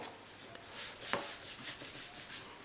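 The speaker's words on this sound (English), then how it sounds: "So give it a good rub." A folded paper card for a tunnel card is rubbed firmly in a series of soft, rhythmic strokes, faint and close, with a small tap partway through and no voices.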